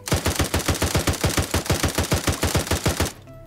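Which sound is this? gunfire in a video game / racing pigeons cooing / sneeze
gunfire in a video game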